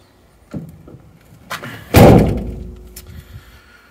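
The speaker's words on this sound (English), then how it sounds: "So we'll shut the door." A Citroen Relay van door is swung shut with one loud, solid slam, preceded by a few lighter clicks and handling thuds, then a short fading rattle.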